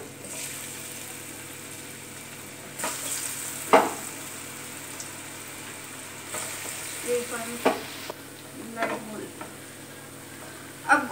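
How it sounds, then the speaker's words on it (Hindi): Potato pieces deep frying in hot oil, a soft continuous hiss and bubble with scattered louder crackles and a few clinks, fairly quiet and close, no talking. "अब हमारा तेल गरम हो चुका है, अब मैं इन आलू के पीसेस को तलने जा रही हूँ।"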